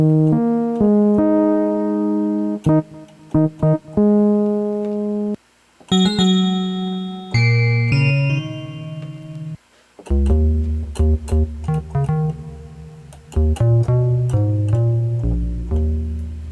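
Bright, bell-like FM synthesizer tones from a Yamaha DX21 play a sequence of sustained notes and chords with metallic harmonics, shifting between patches, loud and alone without any voices.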